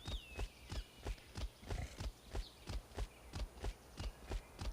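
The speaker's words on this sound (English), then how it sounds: "Creatures do aggro on the horse, and the horse runs away." Video-game horse hooves clip-clop in a steady fast rhythm as the animal runs away, a dozen or more evenly spaced hoofbeats, clear and alone, with a sharp tone at the end.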